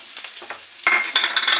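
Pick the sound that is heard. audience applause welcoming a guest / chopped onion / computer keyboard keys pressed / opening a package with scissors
chopped onion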